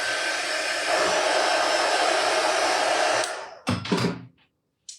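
A hair dryer blows steadily and loudly on a wig for about three seconds, then cuts off, followed by a few short bursts of blowing and rustling before it falls silent.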